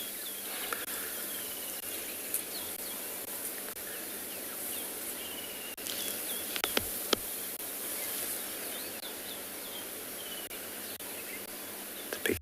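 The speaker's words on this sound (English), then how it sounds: "Picking up all the bird sounds" Birds call at sunrise on a Tswalu safari, with faint chirps and whistles scattered over a steady insect drone and a few nearby clicks.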